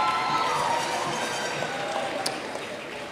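Crowd at a high school graduation cheering and clapping in a steady, dense wash that holds for the whole stretch, fairly loud and close.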